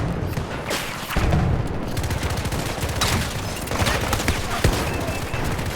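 Explosions and bursts of gunfire from the shooter video game Battlefield 2042 come in rapid, loud volleys. A heavy boom lands about a second in, followed by continuous firing.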